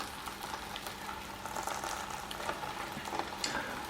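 Eggs frying on a sandwich press give off a steady, moderately loud sizzle and crackle with small pops scattered throughout, with no voices.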